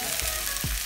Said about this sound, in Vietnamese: Mình dán cho một lúc cho nó giòn, cho nó gọi là xẻm vàng